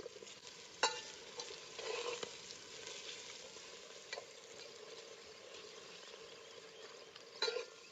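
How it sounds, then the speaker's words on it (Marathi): Peas and potatoes sautéed in masala in a pan, heard as a quiet, soft sizzle with occasional sharp spoon clicks against the pan. "मस्त असं आता वाटाणा बटाटा त्यात त्या मसाल्यात परतून घेतलं"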